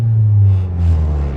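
Car engine idling roughly with worn-out motor mounts, a loud, close low rumble that swells and settles slightly over a brief moment, with no one talking.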